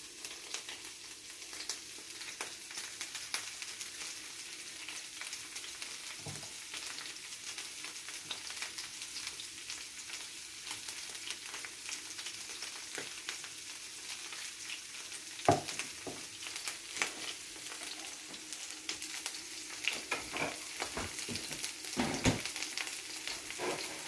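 Food sizzles and fries steadily in a pan at low level, with a spoon scraping and stirring now and then, including a sharper clink near the middle and a few stirring bursts toward the end.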